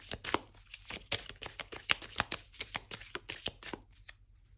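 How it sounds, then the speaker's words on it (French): A deck of oracle cards being shuffled by hand, a rapid string of crisp, close riffling and slapping bursts with no talking. "Donc on va mélanger, on va tirer une carte."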